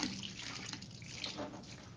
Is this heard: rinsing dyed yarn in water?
yes